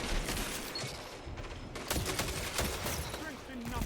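Rapid SMG fire from a Destiny 2 PvP match rattles on in dense, continuous bursts across the whole stretch, mixed with game effects and a voice talking over it.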